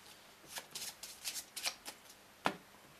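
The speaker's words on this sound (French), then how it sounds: "J'ai mal mélangé" A magician shuffles a deck of playing cards during a card routine, giving a series of quick, close riffling bursts with a sharper snap near the end. No one speaks.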